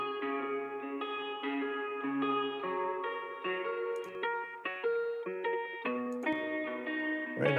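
Electric guitar played through a Tegeler Raummaschine reverb plugin, a sequence of clean sustained chords and notes with a subtle ambient tail ringing between changes, alone without talking.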